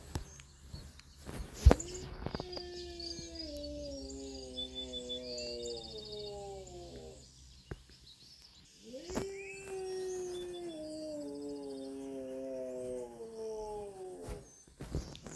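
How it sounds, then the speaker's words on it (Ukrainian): Two long, wavering howls from an animal in the Roblox game Ecos La Brea, each gliding slowly downward with layered tones, separated by a pause and framed by sharp clicks and a steady low hum. "Я чую, що хтось виє."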